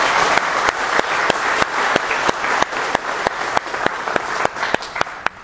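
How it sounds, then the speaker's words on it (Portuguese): A group applauds a technician being introduced at an eyeglasses hand-out event, with steady dense clapping and sharp individual claps standing out throughout, loud and close. "Uma salva de palmas"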